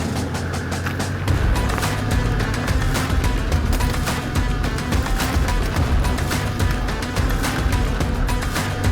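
A four-wheel drive vehicle grinds along tight, ancient forest tracks high in the mountains above the Rios, giving a steady, loud, close rumble with bumps and rattles throughout and no talk.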